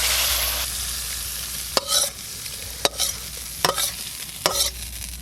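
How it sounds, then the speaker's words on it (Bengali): Spice mixture is tipped into a pot of khichuri and stirred, a soft sizzle with a handful of sharp spoon knocks against the pot spaced about a second apart, close and clear with no talk. "এবার হাঁড়ির মধ্যে এই মশলাটা দিয়ে দেব।"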